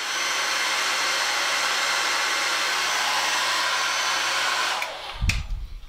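A hair dryer blows loudly and steadily for several seconds, then winds down and cuts off, followed by a few handling knocks.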